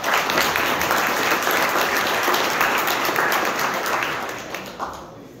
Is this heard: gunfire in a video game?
no